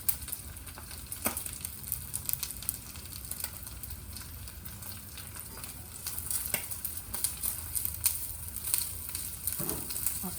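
Bean sprouts sizzling in a hot oiled pan with a Thai clam pancake of egg batter, a steady crackling fry with occasional louder pops and stirring scrapes, no voice over it.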